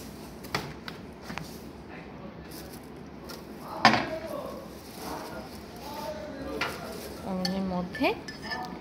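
Someone lifts out and handles the glass turntable from inside a new Samsung microwave oven. The glass gives light clinks and knocks, one sharper clank among them, while a person keeps talking throughout.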